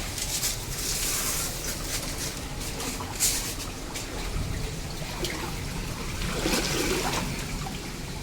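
Faint, continuous trickle of water inside a cave under a hollow hiss, with occasional small drips and a distant bird call.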